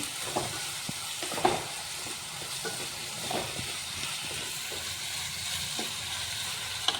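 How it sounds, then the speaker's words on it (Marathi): Vegetables with tomato ketchup and soy sauce stirred in a sizzling pan for manchow soup, a steady frying hiss under repeated scraping strokes of a spoon against the pan, no talking. "टोमॅटो केचप आणि परत आपण हे मिक्स करून घेणार आहोत सर्व भाज्या"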